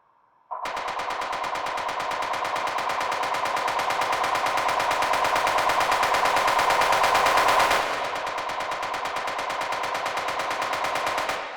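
A rapid, relentless stream of repeated synth hits in even sixteenth notes over four bars in a 134 BPM techno track, building tension before the drop; the texture shifts and thins slightly near the end.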